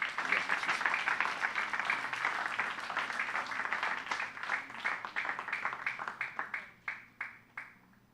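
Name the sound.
applause in a church service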